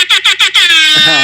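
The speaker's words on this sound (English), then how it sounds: "It says rap air horn." A loud, blaring air horn effect in a few quick rhythmic blasts, then one long sustained blast.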